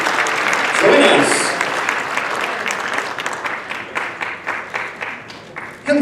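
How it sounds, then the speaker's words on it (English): Audience applause at a charity auction, a loud, dense wash of clapping that swells in the first seconds and then keeps going at a steady level, with crowd noise mixed in. "about a huge round of applause for Tom's honor"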